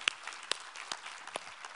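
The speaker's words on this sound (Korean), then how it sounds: "우리 하나님께 감사와 영광의 박수를 드리겠습니다." A church congregation claps during a Sunday morning worship service, a handful of separate, sharp claps scattered across a short, quiet stretch with no voices.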